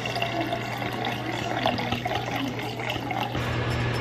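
Water pours steadily into a container with a continuous splashing gurgle, moderately quiet, with no talking.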